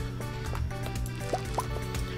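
Watering crops with a watering can in Stardew Valley: a few soft water-drip and splash sounds at a steady pace over looping game music, with no talking.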